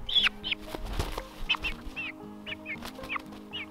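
Several chickens cluck and chirp nearby in short repeated calls, with soft rustling and flapping in between.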